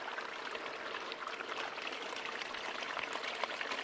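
Running water of a stream at a gold prospecting site in Montana, a steady, soft, continuous rushing and trickling wash heard alone at a moderate distance.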